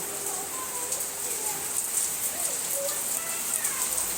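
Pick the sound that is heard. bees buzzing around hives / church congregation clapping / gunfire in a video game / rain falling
rain falling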